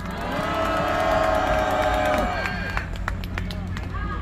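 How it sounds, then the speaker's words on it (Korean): A large outdoor crowd at a political youth rally in Gwanghwamun Square, Seoul, cheering with a loud sustained tonal roar that fades into scattered, sharp claps and crowd murmur. "김광수 청년을 힘찬 박수로 모시겠습니다."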